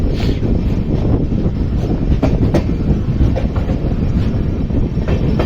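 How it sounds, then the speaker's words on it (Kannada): Panchaganga Express rolling along the tracks while entering Bhatkal, a loud, continuous rumble with rhythmic wheel clatter heard from on board, no voices. "ಟ್ರೈನ್ ಭಟ್ಕಳಕ್ಕೆ ಎಂಟ್ರಿ ಆಯ್ತು ನೋಡ್ರಿ."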